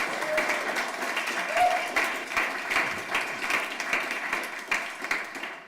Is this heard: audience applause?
yes